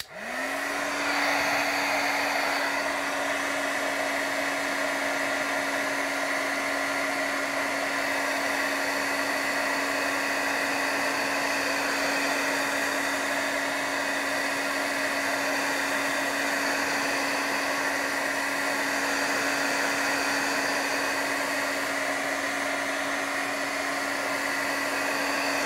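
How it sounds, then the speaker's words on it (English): Electric heat tool blowing continuously over embossing powder on a watercolor background, a loud steady whirring hum with a constant tone that holds unbroken throughout, no voices. "I'm gonna hit this with a heat tool, keep it moving so it doesn't melt the embossing powder."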